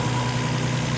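A Japanese car engine idling with a leaking blow-off valve, a steady low mechanical hum with an even droning tone, close and moderately loud, brief and unchanging.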